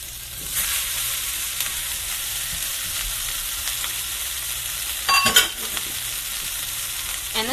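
Leftover meat frying in a home pan, a steady bright sizzle with occasional scraping stirs and a brief louder clatter near the end.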